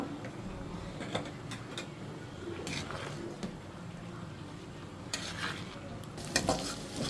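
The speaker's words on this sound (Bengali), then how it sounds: "পেঁয়াজ ভাজা হয়ে গেছে" Chopped onions fry in a pan with a low, even sizzle, punctuated by irregular stirring scrapes and clinks of a utensil, close and moderately quiet, without speech.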